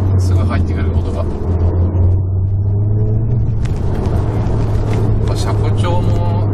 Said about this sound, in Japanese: 踏むとシューってすぐ入ってくる音が